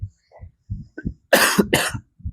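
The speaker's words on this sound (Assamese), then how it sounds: "সৰি বাৰে অলপ মানে কাহ উঠি আছে" Two harsh coughs burst out in quick succession, close and fairly loud, between short soft vocal sounds.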